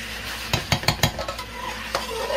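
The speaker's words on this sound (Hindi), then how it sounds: "ये अच्छी तरह गार्लिक के पेस्ट के बाद अब इसमें भून चुका है" Chicken fries in a pan with garlic paste and masala, a soft steady sizzle under a quick cluster of spoon scrapes and clinks against the pan, close up and with no talking.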